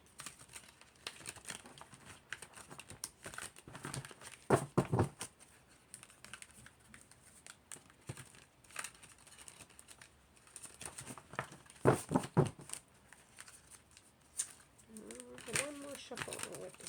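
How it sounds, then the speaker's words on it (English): Tarot cards being shuffled, with soft papery riffles and crinkly flutters in short bursts, quiet and close, interleaved with a person talking. "One more shuffle."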